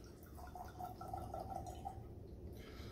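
Peg Leg Porker bourbon poured from a freshly opened bottle into a glass, a steady close trickle of liquid with a rising pitch as it fills, lasting about two seconds before settling quietly.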